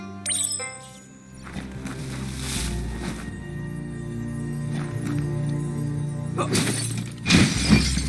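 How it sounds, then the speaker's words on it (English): A wooden box smashed in the video game Biomutant, with a sharp shattering crack near the start and another burst of breaking debris near the end, under game music and ambience. "You shouldn't worry about smashing up the box."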